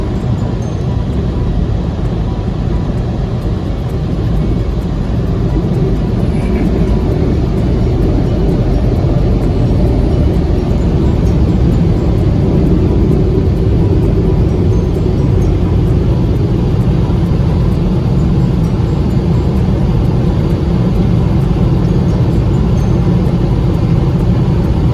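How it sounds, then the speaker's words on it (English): Heated high-power dryer at a touchless car wash at a Petro Canada in Brampton blowing water off a car, a steady loud low roar that holds for the whole stretch without talk. "the professional dryer, the heated dryer I mean, and it will completely blow dry the car."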